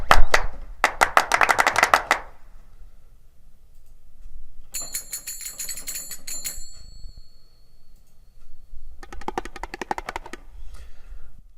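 Darbuka drum samples from a Kontakt oriental percussion library play in short bursts of rapid sharp hits and rolls, separated by quiet pauses, with a bright ringing metallic passage in the middle.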